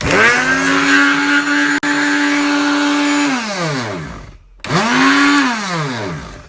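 A blender packed to the brim with vegan birria ingredients whines loudly with a strained motor drone, winds down and cuts out briefly, then roars back up to full speed.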